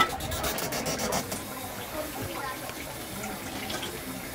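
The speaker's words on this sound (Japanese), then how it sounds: "手洗い殺菌。" Hands are washed under a running tap, a steady close rush of water with some splashing. Brief clicks sound at the start, and faint voices can be heard in the background.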